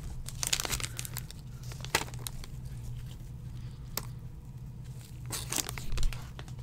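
A Yu-Gi-Oh Cybernetic Horizon booster pack wrapper being torn and crinkled open, sharp foil tears and crackles in several bursts, close and fairly quiet, no voices.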